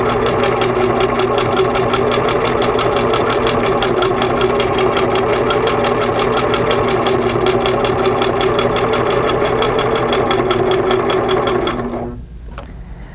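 A Singer sewing machine runs continuously, stitching appliqué onto a quilt with a fast, even mechanical whir that holds steady for about twelve seconds before stopping abruptly.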